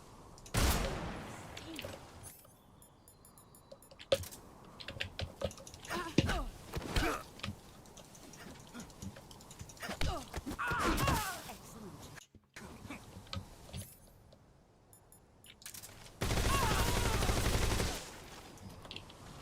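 Scattered gunshots from the Metal Gear Solid Delta video game ring out in isolated cracks and short clusters amid quieter stretches, with muffled voices and grunts, and a sustained burst of noise near the end.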